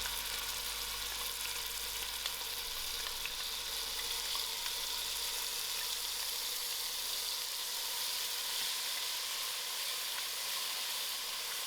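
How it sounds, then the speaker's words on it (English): Onions frying in a quarter cup of oil in a pot, a constant soft sizzle and hiss that holds evenly for several seconds, quiet and unbroken, with no talking. "To my oil, I'm going to put in my onions."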